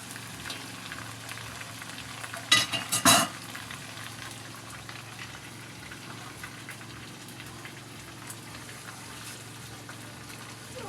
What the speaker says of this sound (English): I'm frying my fish down.